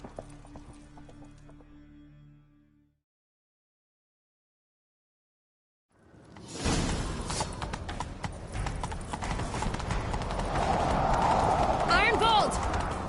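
A horse gallops in The Witcher 3: Wild Hunt, its rapid rhythmic hoofbeats loud and continuous after a silent gap, with the gallop building steadily and speech at the start.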